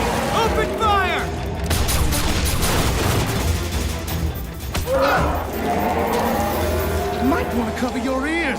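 Sustained gunfire and blasts from an animated G.I. Joe Renegades cartoon episode, with heavy rumbling explosions and rapid shots filling the scene while shouting voices and dramatic music play over the action.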